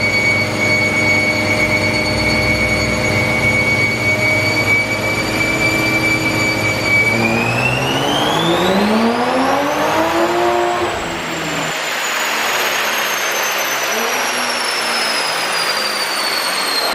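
A 2020 Toyota Supra tuned on pump gas revs hard on a dyno, its loud engine tone climbing steadily then dropping off near the end, with no talk over it.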